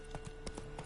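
Horse hooves in The Witcher 3 video game, a quick run of clip-clop beats at a steady trotting rhythm, close and clear over a faint background hum.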